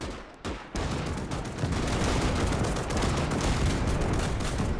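Massed gunfire from soldiers and mechs attacking Rusviet trenches in the Winds of Iron 1920+ mod: a brief lull, then a continuous, dense roar of rifle and machine-gun fire with distant booms, loud and steady to the end.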